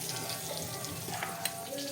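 Pointed gourd (potol) frying in a pan, a faint, steady low sizzle that is quiet and continuous throughout.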